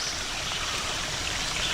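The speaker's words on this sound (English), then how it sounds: "The sound of the creek over there." A steady, broad rush of flowing water from a creek running nearby in the woods on the Mason-Dixon Trail, constant and unbroken with no voices.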